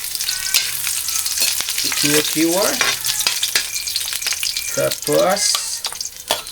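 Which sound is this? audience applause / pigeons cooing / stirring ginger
stirring ginger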